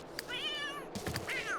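A cat in The Sims 3 gives a clear harmonic meow, followed after a brief rustle by a second shorter meow, both near and fairly loud over faint game ambience.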